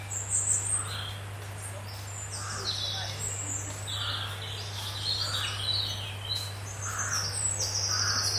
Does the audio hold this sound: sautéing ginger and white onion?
no